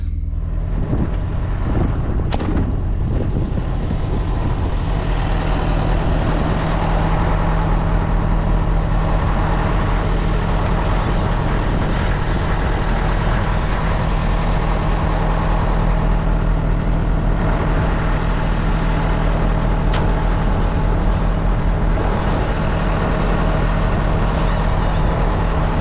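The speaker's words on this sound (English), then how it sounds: "So now let's start with the pre-start of the truck and checking the trailers." A truck engine idles in a steady, loud, continuous rumble during a pre-start check on an outback road train, with a sharp hiss of air near the start.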